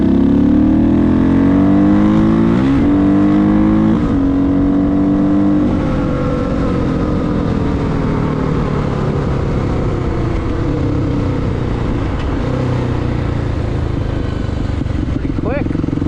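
A Kawasaki KLX250 dirt bike with a 331cc big bore kit, ridden and heard close up as a loud, continuous engine drone that rises and falls in pitch through gear changes and throttle, with wind rush throughout.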